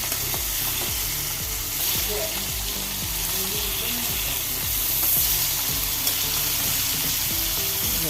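Mackerel frying in a pan, a loud, dense, continuous sizzle that stays close and steady throughout with hardly any pause.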